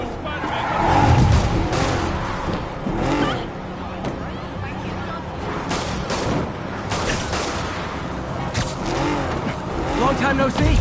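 A car drives through a chaotic street scene in the Marvel's Spider-Man video game. A steady engine rumble runs throughout, mixed with bursts of gunfire and overlapping voices.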